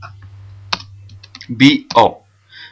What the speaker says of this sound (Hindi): तो अपने कीबोर्ड से BO एंटर कर दें आप